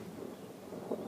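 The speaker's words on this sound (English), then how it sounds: "Sounds like I've got a storm brewing" Low rumble of thunder from an approaching storm, a steady distant roll with a slight swell near the end and no talking.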